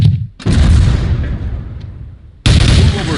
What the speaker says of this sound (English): Now move to the second booth and pick up the M4. You may fire at the target when ready.